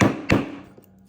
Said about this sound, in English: I love to use the hammer because I'm not forcing with my elbow